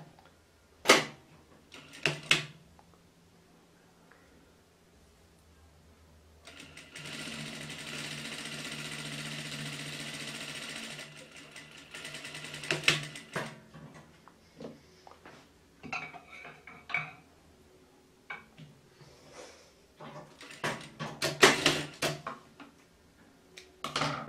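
A sewing machine stitches a folded fabric band in one steady buzzing run of a few seconds, with handling clatter and small knocks before and after.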